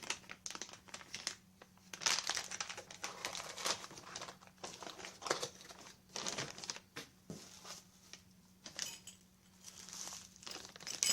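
A plastic bag crinkling and rustling up close, in irregular bursts of handling with brief quieter pauses between.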